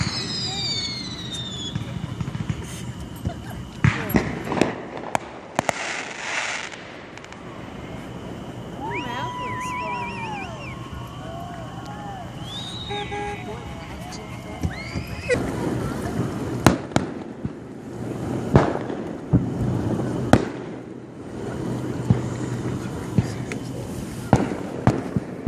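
Fireworks go off over Lake Blackshear, with repeated booms and crackling bursts in uneven rhythm, some distant and some sharper, while people talk nearby throughout.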